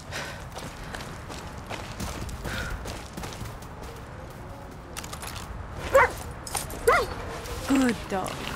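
Dog in the Far Cry 6 video game giving a few short whimpers and yips near the end, mixed with game ambience and someone speaking.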